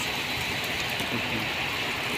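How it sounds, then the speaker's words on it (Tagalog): Heavy rain driven by wind pours onto a road, a dense, constant hiss that stays loud and even for the whole short stretch. "Pero pag ganito kalakas ang ulan, hindi daw madulas ang kalsada"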